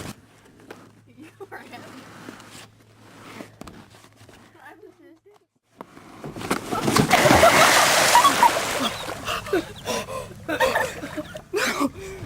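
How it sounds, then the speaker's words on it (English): A boat shoved into a pond sets off a burst of splashing and sloshing water that swells loud midway and churns on for several seconds, with voices and a gasp around it after a quieter stretch of movement. "he's gonna push the boat into the water"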